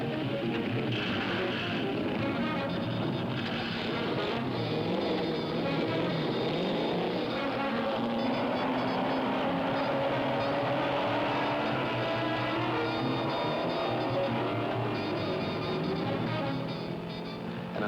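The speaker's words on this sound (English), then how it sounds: "it's Sebring, with the noise and confusion of a Le Mans start." Race cars roar off at a Le Mans-style start at Sebring in 1966, a dense, loud wall of engine noise with rising and falling tones from many cars throughout.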